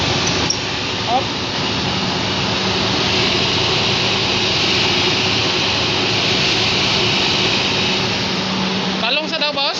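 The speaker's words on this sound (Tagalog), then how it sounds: "Ganda talaga ng tunog kapag gasoline engine." Gasoline engine of a 2019 Toyota Fortuner running at a steady, loud idle with a broad continuous roar, close to the microphone, shifting near the end as other noise comes in.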